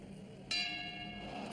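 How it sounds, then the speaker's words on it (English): A boxing round bell rings out in a boxing video game, one bright metallic strike that lingers with a sustained ringing tone. "And there's the bell!"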